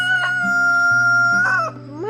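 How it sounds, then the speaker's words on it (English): A rooster crows loudly and close by, a long drawn-out call with rising and falling pitch, heard alone. "you're noisy, Mr. Rooster."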